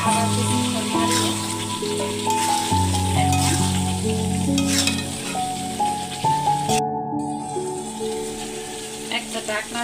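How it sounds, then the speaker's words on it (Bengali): Roast curry fries and is stirred in a pan, a loud continuous sizzle with scraping stirs, set against tonal background music. "আবার কিছুক্ষণ নাড়িয়ে"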